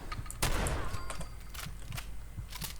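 A Furious Combat Shotgun mod firing in Fallout 4, with a heavy blast at the start followed by a series of fainter impacts and clatter during combat.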